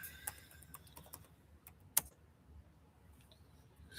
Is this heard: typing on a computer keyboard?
yes